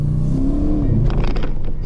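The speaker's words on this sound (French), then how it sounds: "Le V8 il répond." A 2021 Audi RS7 with a 600-horsepower V8 engine accelerating hard, a loud, steady rumbling roar with a rising tone, heard close and continuous with no talking.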